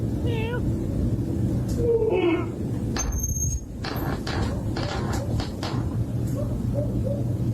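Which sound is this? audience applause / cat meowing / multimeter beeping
cat meowing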